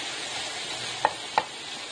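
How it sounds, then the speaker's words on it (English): Half a pound of hamburger meat frying in a pan, a constant crackling sizzle with two brief sharp clicks partway through. "fry up half a pound of hamburger meat"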